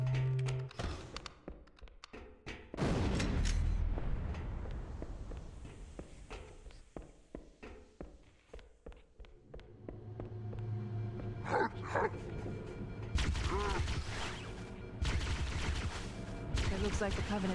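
Gunfire rattles in bursts as Covenant elites are shot at in a remastered Halo game, mixed with thuds, footsteps and other busy in-game effects.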